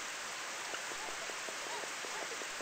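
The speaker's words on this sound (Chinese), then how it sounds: "两扇窗户都在下雨" Rain falls outside a pair of windows, a steady, even hiss of downpour with no breaks, fairly quiet and unbroken by other sounds.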